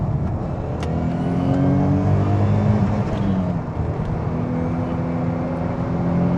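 A Renault 25 V6 Turbo Baccara accelerates hard onto a motorway, its engine note rising steadily and holding strong and close throughout, with rushing road and wind noise beneath the climbing revs.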